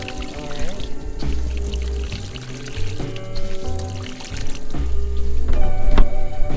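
Water is flushed through the cooling system of a 1995 Ford F-150, a steady gushing pour with irregular low thumps and surges that grow louder toward the end.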